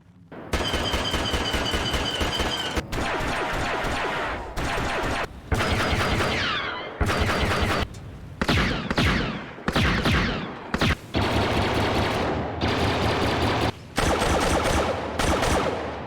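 Classic 2005-style Star Wars Battlefront blaster fire from a mod for Star Wars Battlefront II (2017): loud, rapid bursts of repeated blaster shots in long strings separated by brief pauses, with no talk.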